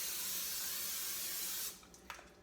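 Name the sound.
nonstick cooking spray sprayed on a griddle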